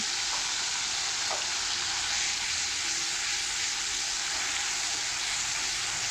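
Ground spice paste hits hot oil tempered with black cumin for a Bengali maan kochu and prawn curry, producing a constant, dense, close sizzle with no pauses.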